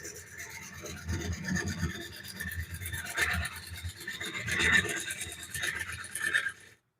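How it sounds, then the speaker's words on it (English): A woodturning tool blade is sharpened during a walnut bowl turning session, giving a steady, continuous rasping grind with rising and falling strokes that runs close and fairly loud, then cuts off abruptly at the end. "Sharpening your blade."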